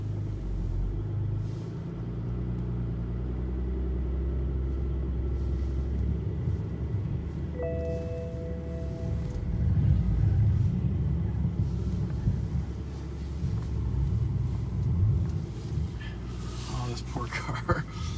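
A BMW E90 car engine running in a garage at about -1 degrees, heard from nearby as a steady low rumbling idle that swells slightly midway, with a few faint higher tones and some handling noise.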